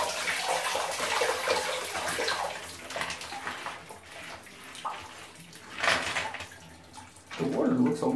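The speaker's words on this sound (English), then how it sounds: "Final rinsing with running water." Running tap water pours over bulk Lego bricks being rinsed, a loud splashing stream that surges and dips in bursts, with some faint voice under it.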